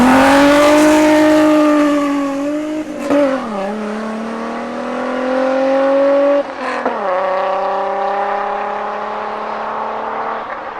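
A 1988 BMW 735i with a manual gearbox hums steadily with a strong harmonic engine tone, its pitch dipping and shifting around two gear changes or throttle blips, no voices.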